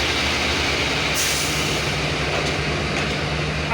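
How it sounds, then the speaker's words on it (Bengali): Locomotive 2930 hauling the 767 Dolanchapa Express from Santahar to Panchagarh rolls into Parbatipur Junction, a steady loud broadband rumble with a low hum held throughout, no voices. "767 দোলন চাপা এক্সপ্রেস ট্রেনটি বর্তমানে ইন করলো"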